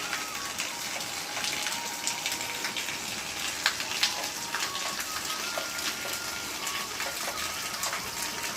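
First monsoon rain falls steadily in the hills, a continuous wet patter with scattered sharper drops standing out against the constant wash of water.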